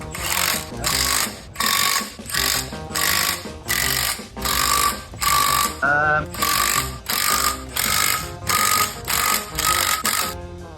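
A torque wrench clicks in a steady repeating rhythm while the clutch on a Subaru WRX Impreza is tightened to spec, each close metallic ratchet burst loud and evenly spaced, with no talk.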